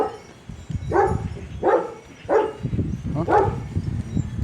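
A dog barks four times at a steady, unhurried pace, fairly close and moderately loud, over a low rumbling background.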